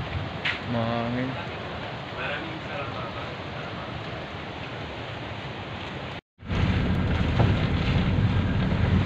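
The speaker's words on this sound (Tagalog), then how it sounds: "Mahangin." Strong wind roars and buffets the microphone, drowning a brief voice early on, with a short dropout before the gusting resumes.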